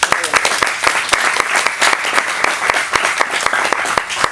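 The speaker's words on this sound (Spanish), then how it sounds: "Bueno, disfruten de esta charla y otro fuerte aplauso" Loud, close applause from an audience at a photography conference as a lighting talk begins, with many sharp individual claps forming a vigorous, continuous burst throughout.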